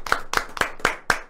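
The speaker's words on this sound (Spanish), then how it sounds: "Vamos a recibirla con un fuerte aplauso." Five sharp, evenly spaced claps ring out in a quick, steady rhythm, as if an audience were clapping in unison to welcome a speaker.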